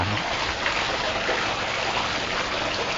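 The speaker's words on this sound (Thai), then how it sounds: "ก็จะมีน้ำน้ำตกจำลอง" Continuous rushing water pours and splashes at an even level from an artificial waterfall beside a Thai temple abbot's residence, a dense steady flow heard close with no pauses.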